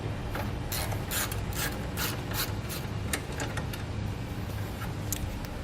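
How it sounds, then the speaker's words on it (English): A ratchet turning a 10mm socket on the car horn bolt of a 2017 Ford Focus gives rapid, continuous pawl clicking with regular bursts, close up over a steady low background hum. "So use a 10mm socket to remove that."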